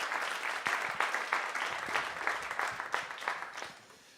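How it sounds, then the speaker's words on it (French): Audience applause at an award ceremony, a crowd clapping with a few sharp individual claps standing out near the listener, fading toward the close. "On peut les applaudir encore une fois."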